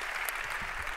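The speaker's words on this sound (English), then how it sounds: "Let's give them a hand of applause while they return to their seats." Audience applause for panelists at a forum on the circular economy, a short burst of dense, steady clapping with a faint voice underneath.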